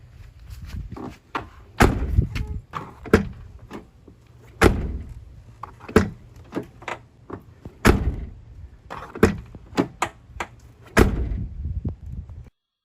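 A Ford Excursion door with a new rubber-isolated striker closes again and again, each shut a sharp, solid thud, spaced irregularly across several seconds with quieter handling sounds between them.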